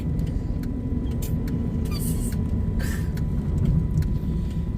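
Small truck driving along, heard from inside as a steady low engine rumble and road noise, with a faint whine and a few brief rattles and squeaks.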